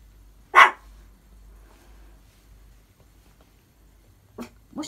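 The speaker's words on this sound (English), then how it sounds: "What are you barking at?" A single sharp dog bark close by, followed by a quiet pause and then two more shorter barks near the end.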